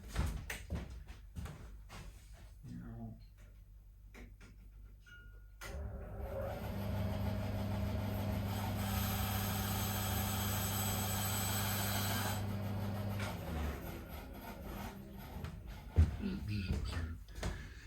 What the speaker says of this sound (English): I'm going to go out of sight and just cut this on the bandsaw